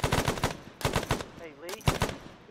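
Gunfire in Arma 3 rattles in rapid bursts, with grenade launchers called into a firefight; several loud stuttering volleys separated by short gaps, with a brief voice between them.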